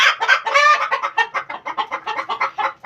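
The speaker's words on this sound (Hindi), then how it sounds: "मुर्गियों ने बहुत ही ज़्यादा शोर मचा दिया है" Hens in an enclosure at a mini zoo cluck loudly and agitatedly, a close, dense run of rapid squawking calls that later settles into a quicker rhythmic clucking.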